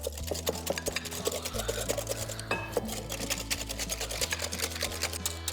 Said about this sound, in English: I'm going to mix them with a whisk to become nice and light and airy.